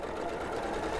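A sewing machine stitches a quilt block of batik fabric, a brief, fairly quiet whirring run with a steady mechanical buzz.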